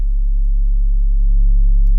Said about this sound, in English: have this be instead just a plain clean sine wave sub with relatively the same loudness